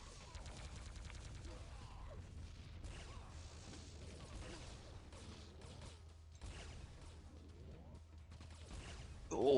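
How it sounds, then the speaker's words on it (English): Quake 3 railgun shots fire in a steady series over a low hum, each crack followed by a short whirring recharge, with weapon mechanisms and other gunfire mixed throughout. "I love the sound of the railgun. The fire and then the little recharge as well."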